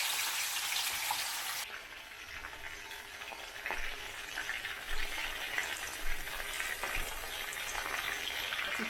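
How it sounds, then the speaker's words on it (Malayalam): Chicken pieces for Kerala-style dry roast deep-frying in hot oil, a soft steady sizzle and crackle with a sharper burst near the start as pieces drop in, heard alone without talk. "അപ്പം ചിക്കൻ ഇങ്ങനെ ഓരോന്നായിട്ട് ഇട്ട് വറുത്തെടുക്കാം."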